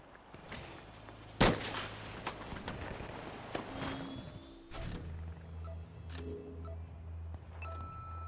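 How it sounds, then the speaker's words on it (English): Sniper rifle fire in the video game Combat Champions: one loud, sharp gunshot crack stands out, followed by fainter scattered shots and impacts over a low, steady background hum. "Sniper rifle to the dome."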